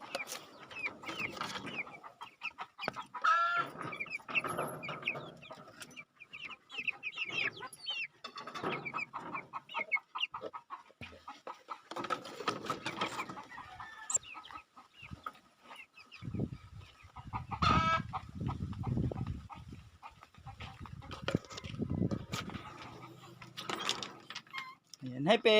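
Chickens cluck and squawk in short bursts around a yard at night, scattered through steady talking, with some metallic rattling now and then.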